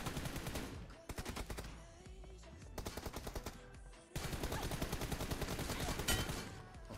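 Gunfire in the mobile shooter PUBG Mobile BGMI: dense, rapid automatic bursts, loud and continuous, broken by brief pauses, with no talk over it.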